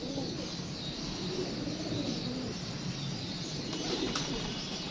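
Pigeons kept under lights coo softly in a steady murmur, with occasional chirps and light fluttering over a constant background hum.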